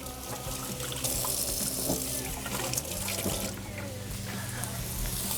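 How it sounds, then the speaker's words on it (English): Hands are washed under a running sink tap in a kitchen, water splashing and gurgling steadily at close range with small bursts as the hands move through the stream. "just going to quickly wash my hands a bit."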